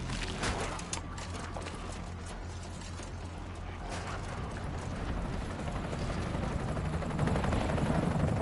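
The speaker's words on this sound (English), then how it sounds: "is this Chad fucking off in a helicopter again?" Helicopter in a Resident Evil video game flying off, a steady loud rotor chop with mechanical clatter that grows slightly stronger toward the end, with no talk.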